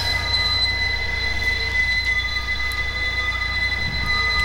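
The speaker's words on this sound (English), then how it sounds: "now the rear has become the front of the train, and they are going through the Y there now" Conrail train wheels screech in a steady, loud, high-pitched squeal while the train passes through a wye track in street running in Warsaw, Indiana, with a low rumble underneath throughout.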